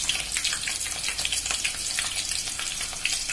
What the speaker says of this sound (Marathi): आता आपलं हे तेल गरम झालेलं आहे। याच्यामध्ये कांदा फोडणी देऊ।